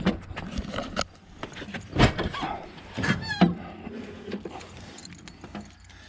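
Metal keys jangle and clink in short bursts, up close, while handling the ignition key of an Oliver 50 Series tractor, with scattered knocks and shuffling around them.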